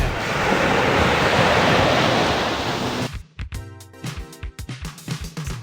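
Sea waves wash onto a beach in a loud, continuous roar for about three seconds, then give way abruptly to other sounds.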